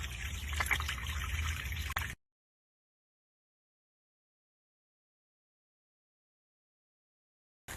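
Harvested rainwater trickles out of an IBC tote used to irrigate a garden. There are about two seconds of a faint, steady splashing flow, then silence with a brief return at the very end.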